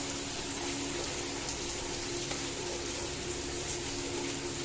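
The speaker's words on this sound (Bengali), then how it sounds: "অনেকদিন বাদে বৃষ্টি না, তাই দেখতে ভালো লাগছে" Steady rain falls outdoors with some wind, a continuous even hiss and patter holding at one level throughout with no voices.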